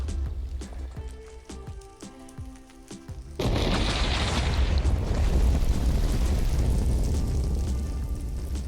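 A video game explosion from the Warium mod, triggered by a redstone signal: a sudden loud blast gives way to a sustained, crackling rumble that fills the rest of the clip.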